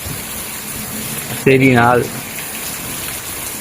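Heavy rain pours at night around midnight with wind shaking the trees, a dense steady wash of noise close by, interrupted midway by a brief spoken phrase.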